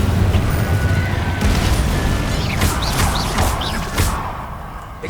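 Incendio fire spell cast in Hogwarts Legacy, a loud whooshing burst with crackling bright bursts and a rumbling low boom, continuous and near, mixed with game effects.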